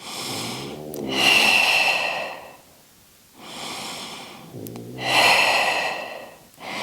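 Deep breathing during a Pilates back stretch on a Pilates bar: two slow cycles of audible inhales and exhales, close and fairly soft, each breath swelling and fading with quiet pauses between.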